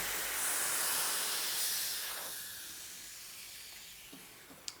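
A Sage Bambino Plus espresso machine's steam wand purges with a loud, steady hiss of steam that starts strong, then tapers off over a few seconds, followed by a couple of faint clicks and a short sharp tap at the end.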